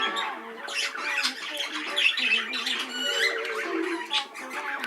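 Exhibition budgerigar cock birds in a birdroom chatter and squawk continuously, a dense layered warbling of many birds at once, fairly close and moderately loud with no talking.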